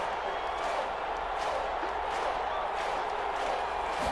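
A Madden NFL 21 stadium crowd roars steadily as a big third down approaches, a dense, continuous wash of cheering with faint claps, loud and unbroken throughout.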